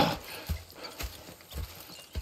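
Horses in the video game Red Dead Redemption 2, faint hoof clip-clops in an uneven walking rhythm with soft thuds, quiet and alone without talk.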